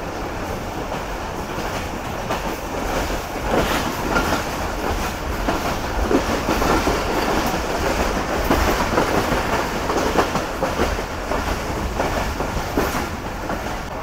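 Karakoram Express with old coaches running fast on rails between Lahore and Karachi near Faisalabad, a steady loud rumble with clattering wheels and rolling clickety-clack throughout, no voices.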